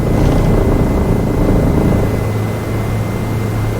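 A Bell 407 helicopter in flight makes a loud, steady turbine whine over a deep, constant rotor drone, heard close and unbroken from start to finish with no voices.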